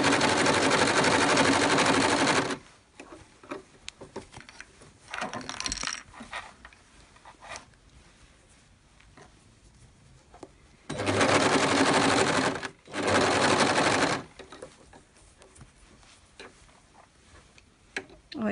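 A sewing machine whirs in two or three fast bursts, stitching elastic around a waistband, with quiet clicks and handling noises between runs.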